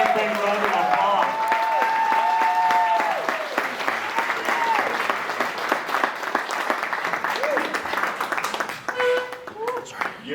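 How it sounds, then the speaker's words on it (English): Audience applause at a Network of Champions gathering, dense steady clapping that swells and then thins out, with voices calling and talking over it. "A big round of applause"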